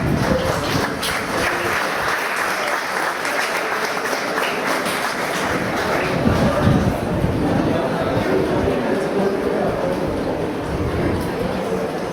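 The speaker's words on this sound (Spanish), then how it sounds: "Con el aplauso vamos a recibir a la bellísima María Belén." Sustained applause from a crowd, steady and fairly loud throughout, with a mix of voices and cheering underneath.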